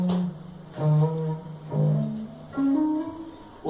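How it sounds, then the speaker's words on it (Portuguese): An electric guitar played clean without distortion picks out a short lead phrase of about four sustained notes, each ringing clearly and decaying before the next, close and alone. "um som sem distorção aqui para exemplificar"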